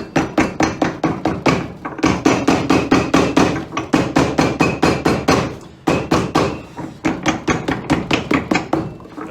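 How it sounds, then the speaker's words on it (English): A hammer beats a leather sole onto a Tricker's fiddle-back waist boot in rapid, evenly spaced blows, loud and close, running in bursts with short pauses between. "We're going to hammer it first so that we secure all of the edges"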